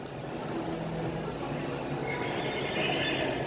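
A horse neighs in a long, rising whinny amid a steady rumbling background, moderately loud and alone without talk.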